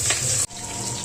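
Water drained off boiled taro for a kasu dish, a steady splashing pour that breaks off abruptly midway and then resumes as a softer running trickle.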